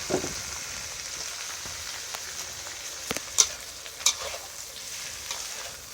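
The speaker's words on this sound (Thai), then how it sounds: "ตอนนี้เอาไข่มาผัดก่อนครับ ผัดกระเทียมครับ" Eggs, garlic and cucumber stir-fried in a pan, heard as a steady soft sizzle with a few sharp scrapes and clicks of the spatula against the pan, close up and without talking.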